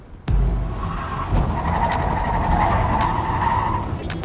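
An AMC Gremlin racing around a track, its engine droning and tires skidding and squealing continuously after a sudden loud onset, close and sustained.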